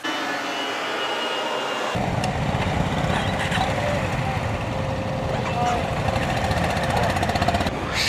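Several Honda BigWing motorcycles start up together in early morning for a group ride of about fifty bikers in Kolkata, a sudden broad engine roar that begins after two seconds and holds loud and steady, with voices mixed in.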